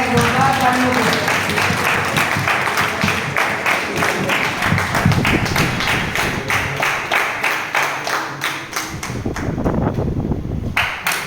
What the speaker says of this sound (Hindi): स्टेज पर आए, जोरदार तालियों से।